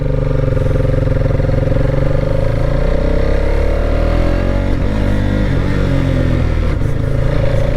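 A modified Apache 310 motorcycle with a quick shifter, ridden and revving hard, its engine note loud and close, rising through gear changes with steady clattering drone throughout.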